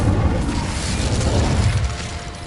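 An Incendio fire spell blasts in Hogwarts Legacy inside a cave, a loud, sustained whooshing roar with a deep booming low end that fades slightly toward the end.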